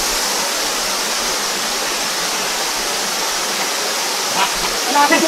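A forest waterfall near Mamburao, Occidental Mindoro, pours as a dense, constant roar of falling water close by, with a few brief voices rising over it near the end.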